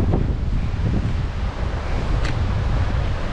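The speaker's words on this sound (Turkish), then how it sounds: "Rüzgar da esiyor." Steady, heavy wind on a mountain trail of the Lycian Way, Turkey, buffets the microphone with a constant low roar and rumble, continuous throughout with no voices.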